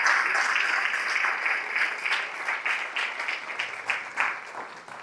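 A congregation applauds during a church service, a steady wash of many hands clapping that holds for the whole stretch with slight swells and dips and no voices on top.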